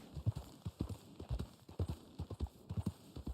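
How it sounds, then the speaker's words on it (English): Horse hooves clip-clop in the Red Dead Online video game, a brisk, even rhythm of hoofbeats at a moderate, fairly close level with faint speech in the background. "I gotta feed my horse."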